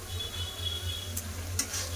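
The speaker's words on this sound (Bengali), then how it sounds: "ভালো করে মশলাটাকে কষে নেবো।" Chili powder, turmeric and salt are stirred and fried in hot oil, giving a steady close sizzle. A spoon scrapes and clicks against the pan a few times, with no talking.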